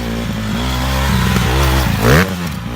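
A dirt motorbike with a loose chain revs nearby, its engine note climbing and falling under a metallic rattling clatter, loud and continuous.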